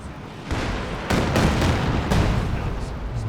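Artillery barrage in the Company of Heroes 2 game, a 2v2 match, heavy booming bursts at roughly half-second and one-second intervals over a dense rumbling battlefield bed.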